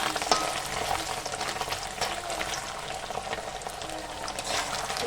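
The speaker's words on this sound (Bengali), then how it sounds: "বন্ধুরা, তেলগুলো গরম হয়ে গেছে, চলো পনিরটা একটু ভেজে নিই।" Paneer frying in hot oil gives a continuous bubbling sizzle with occasional spoon clinks and stirring, heard close with no talk.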